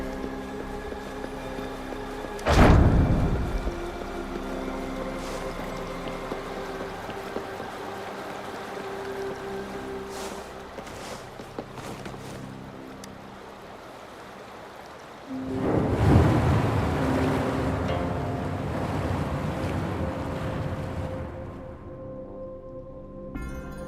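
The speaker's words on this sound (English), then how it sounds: "The water level just dropped again." Water draining away as the level drops in the video game Wuthering Waves, a steady rushing wash with two louder surges, one brief near the start and a longer swelling flow later, over ambient game tones.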